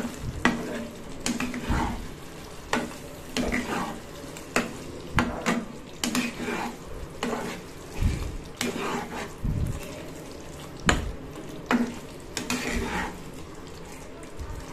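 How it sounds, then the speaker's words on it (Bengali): A pointed gourd dish simmering in milk with ghee is stirred in a pan, with repeated scraping strokes of a spoon over a soft, steady sizzle, close by. "এবার আমি এটাকে আবার নাড়িয়ে দিচ্ছি।"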